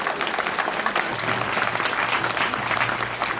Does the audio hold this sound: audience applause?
yes